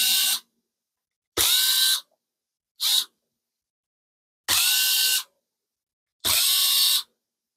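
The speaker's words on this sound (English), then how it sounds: "And remove these two screws on each fan." Power screwdriver removing screws from laptop cooling fans, five separate whirring bursts of about half a second to a second each with silent gaps between, close and loud, no talk.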